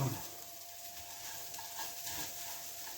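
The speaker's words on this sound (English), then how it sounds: "And then again just continue stirring." Butter beans being stirred in a pot give a steady bubbling, sizzling hiss with faint scraping throughout, close and continuous with no voices.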